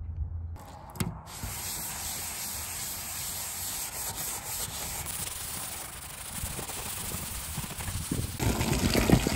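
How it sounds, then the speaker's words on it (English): A boat deck scrubbed with soapy water and a Scotch-Brite pad: steady, close rubbing and scouring strokes with occasional hiss and wet splashes, loudest near the end. "I got some soapy water and a Scotch-Brite pad, and we're gonna scrub all this off"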